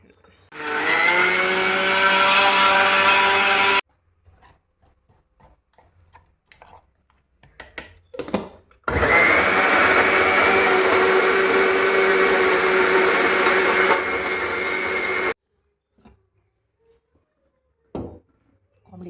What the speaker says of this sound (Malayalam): ഇത് മിക്സിയിലിട്ട് നന്നായിട്ടൊന്ന് അടിച്ചെടുക്കണം